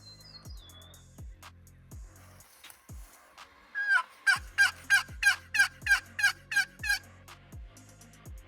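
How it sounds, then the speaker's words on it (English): A string of about eight loud, rapid wild turkey gobbles rings out close by on a spring morning in Nebraska, each burst sharp and rattling, following a few fainter bird calls and low rumbling in the background. "We've heard turkeys gobbling everywhere this morning."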